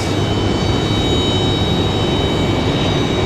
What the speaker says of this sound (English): see American Airlines 174 Heavy pushing back